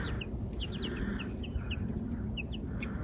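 Baby chicks in a grassy backyard give soft, scattered high peeps over a steady low background rumble, with no talking.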